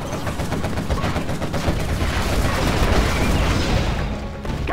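Rapid quad cannon fire from a GLA unit in the Command & Conquer Generals real-time strategy game, a dense continuous burst of loud overlapping shots with rumbling booms, sustained for several seconds with no voices.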